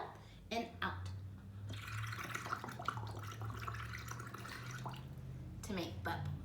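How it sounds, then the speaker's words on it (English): Bubbles gurgle and drip as breath is blown through a tube into water, a steady watery bubbling with a voice heard intermittently over it. "To make bubbles."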